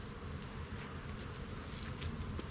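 Honey bees cover a frame of drone comb lifted from a hive during an early spring inspection for varroa mites, giving a faint, continuous, steady buzzing drone with no voices.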